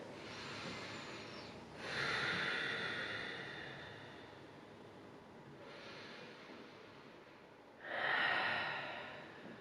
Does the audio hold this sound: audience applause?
no